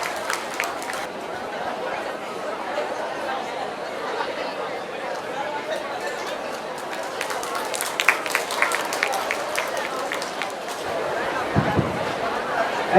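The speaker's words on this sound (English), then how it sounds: "Please give her a huge round of applause." A youth festival audience in a college hall claps and cheers for a prize winner, steady crowd applause and chatter at moderate distance, swelling slightly near the end.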